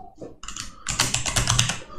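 Keys clatter on a computer keyboard during account sign-up for a free hosting service, starting with a few sparse taps and then turning into a dense, fast run of close, crisp keystrokes.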